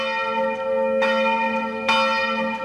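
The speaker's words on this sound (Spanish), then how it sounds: "A las 10 en punto, las campanas repicaban en la iglesia colegial de Stuttgart." Church bells ring out from the collegiate church in Stuttgart, two clear strikes about a second apart over a sustained humming resonance, loud and alone without talk.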